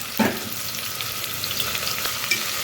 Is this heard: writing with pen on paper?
no